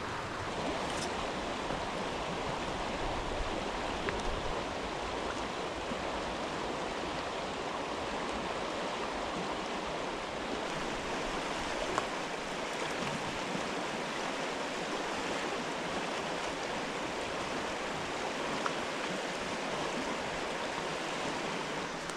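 Fast-flowing stream water in Wales rushes steadily for the whole stretch, a continuous bright babbling hiss at moderate level with no voices.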